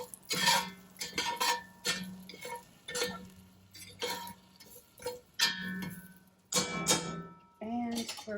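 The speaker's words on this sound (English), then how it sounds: "We're going to stir and just kind of get this mixed up" Rib-rub spices being stirred in a pot for Indian-style ribs, heard as irregular bursts of scraping and clinking, with a voice talking in between.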